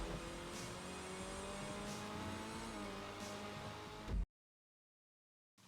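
Annis 300R, a Nissan Z-style sports car in GTA Online, drives on a track with a steady, loud engine drone and faint tire noise for about four seconds, then cuts to silence.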